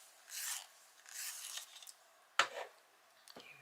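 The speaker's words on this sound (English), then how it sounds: "Let's just give it a sharpen." A walnut brown coloured pencil is sharpened in a few separate bursts of dry, rasping scraping, close and fairly quiet, with a sharp click partway through and short pauses between the strokes.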